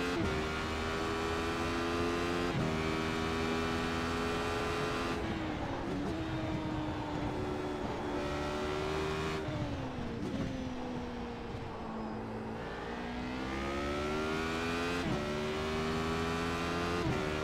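A race car engine lapping in the iRacing video game, a steady droning whine that drops and climbs with gear changes and braking across the whole stretch, alone and fairly quiet.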